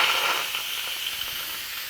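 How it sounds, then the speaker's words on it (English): A continuous loud hiss of escaping steam rushes out steadily for a couple of seconds, close up and without any talking. "Now it will blow out some steam because it is full of water."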